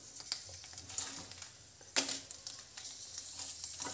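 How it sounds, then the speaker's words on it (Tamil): Dried red chillies crackle and sizzle in hot oil in a pan while a Chettinad-style sesame idli podi is made, giving a soft continuous fizz broken by occasional sharper pops. "கொஞ்சமா நல்லா எண்ணெய் ஊத்திட்டு நல்லா எண்ணெய் காயட்டும் இந்த மிளகாயை வந்து நம்ம போட்டுறலாம்"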